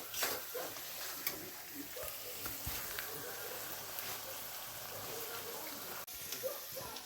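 Fried rice tossed and stirred in a hot pan, a dense continuous sizzle with scattered clinks and scrapes running steadily throughout.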